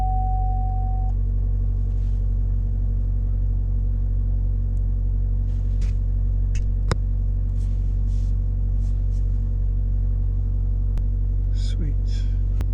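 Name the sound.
2014 Chevy Volt Ecotec engine running after restart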